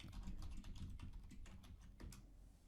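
Computer keyboard typing, a dense run of quick keystrokes with steady, even rhythm from start to finish, close and moderately loud, with no voices.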